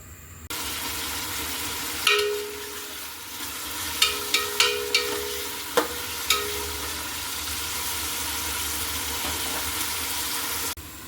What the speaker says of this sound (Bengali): প্রথমে পেঁয়াজগুলো আমি একটু ভেজে নেব।